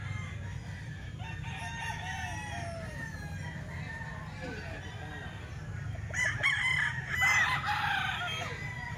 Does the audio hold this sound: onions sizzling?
no